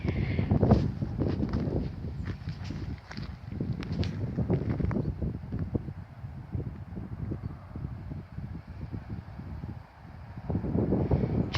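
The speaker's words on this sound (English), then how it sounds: "Very windy." Strong gusting wind buffets the microphone at a railway level crossing, rumbling and flapping in uneven bursts that swell and fade, with no other clear sounds.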